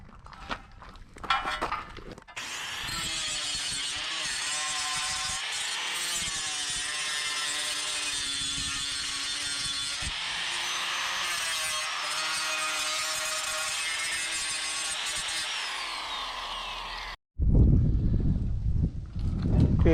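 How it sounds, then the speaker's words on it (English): A regular sander disc grinds excess solder and brass welding off the lower tank of an antique tractor radiator, making a loud, continuous abrasive whine that runs unbroken for about fifteen seconds between short bursts of handling noise. "I'm going to take just this regular sander disc and try to remove all this excess soldering"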